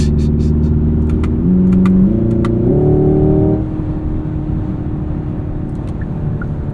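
A 2025 Hyundai Ioniq 5 N electric car plays a simulated engine note while lugging at low revs in a high gear, a loud droning rumble stepping up in pitch, then settling into steady road and motor noise.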